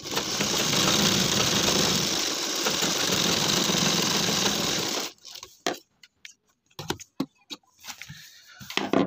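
A sewing machine stitches a strap onto a handmade ladies purse with a fast steady whirr for about five seconds, then stops, leaving scattered handling knocks and rustles.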